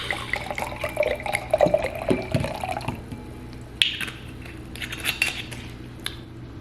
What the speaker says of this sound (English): I gotta pour some wine for this